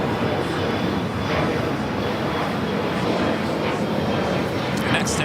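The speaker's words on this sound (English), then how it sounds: "Next takeoff here on the south side is Spirit Airlines heading to Atlanta, A321neo, flight 836." Steady broadband roar of a Spirit Airlines Airbus A321neo jet taking off at LAX, loud and continuous with little variation, heard from a distance in the open.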